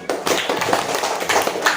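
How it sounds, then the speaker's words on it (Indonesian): Students in a classroom clap their hands together, a close, fairly loud patter of many overlapping claps that keeps going with small surges throughout. "Silakan, tepuk tangan."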